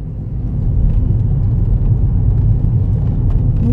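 A car drives along a city road, a loud steady interior rumble of engine and tyres that holds constant throughout with no talking.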